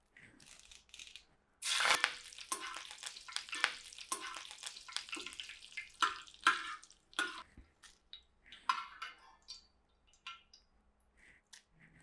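Curry leaves hit hot oil for a spiced Chex mix, bursting into a sharp crackling sizzle, then settling into irregular spits and pops that thin out toward the end, close and fairly quiet.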